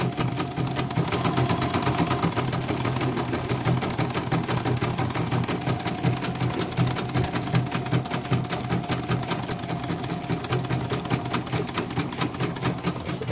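An embroidery machine runs steadily after repair in a service shop, its rapid needle stitching forming a dense, even mechanical chatter over a low motor hum, loud and continuous throughout.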